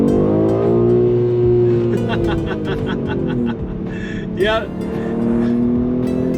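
A BMW X3 M Competition accelerates up an on-ramp, its engine rising steadily in pitch through the gears with a brief dip at a shift, loud from inside the cabin, while a voice speaks briefly over it.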